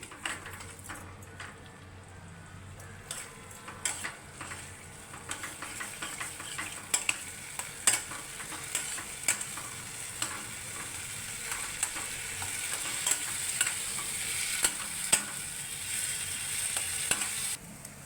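Salted potol mixture with a little turmeric is stirred in a frying pan, with a steady sizzle throughout and repeated scraping clicks of a spatula against the metal.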